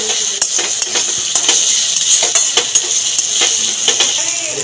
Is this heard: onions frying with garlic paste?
yes